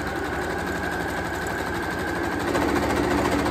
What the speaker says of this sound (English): start sewing slowly and then backstitch